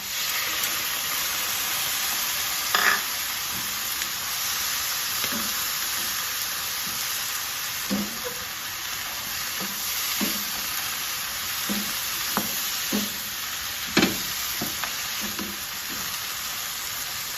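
Pork ribs sizzle steadily in hot oil in a pan for spicy dry Thai ribs, a continuous loud hiss broken by scattered knocks and scrapes of a utensil stirring, with no one speaking.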